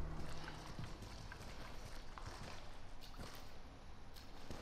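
Footsteps in Resident Evil 7's "Not a Hero" DLC on PS4, a quick series of soft, irregular treads over a dense, noisy game ambience, with no speech.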